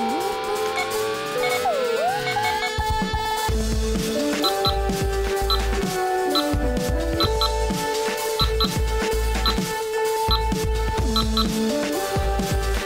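Star Trek Next Generation tricorder prop, a modded replica, emits a continuous electronic warble of chirping beeps, sweeping tones and clicky pulses, steady and close for several seconds with no talking.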